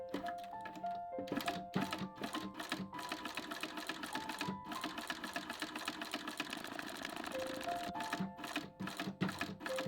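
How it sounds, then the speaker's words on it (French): A sewing machine stitches leather straps onto a leather bracelet, its rapid needle clatter running in bursts with brief pauses and tonal whirs, close and fairly quiet, with no voices. "je vais venir coudre ces lanières sur le bracelet, en veillant à coudre bien au milieu de celle-ci"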